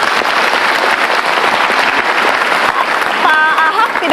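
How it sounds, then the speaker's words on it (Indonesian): Studio audience applauding a guest on an Indonesian political talk show, a steady dense wash of clapping throughout, with a brief tonal sound near the end. "kita kasih tepuk tangan"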